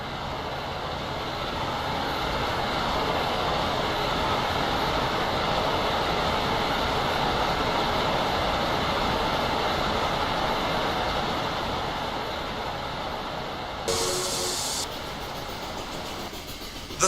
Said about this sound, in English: we have a latch-up with not one, not two, but 3 GP9s on a coal drag